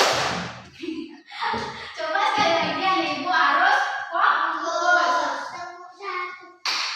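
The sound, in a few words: children clapping along in a classroom clapping game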